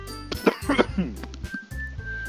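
Several harsh coughs and throat-clearing bursts from one person, close and loud, sounding like a deliberate, exaggerated fit with a steady musical hum underneath.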